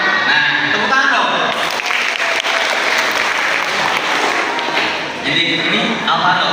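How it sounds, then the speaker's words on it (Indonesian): A group of campers at a three-day camp claps together at an Indonesian campsite gathering, a loud burst of dense applause after a brief moment of talk, fading as voices return near the end. "tepuk tangan dong."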